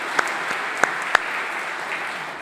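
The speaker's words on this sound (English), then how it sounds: "One more round of applause to welcome our newest members here at Unity Presbyterian Church." A church congregation at a Presbyterian Confirmation Sunday worship service applauds to welcome new members. A steady wash of clapping is punctuated by a few louder, nearby claps.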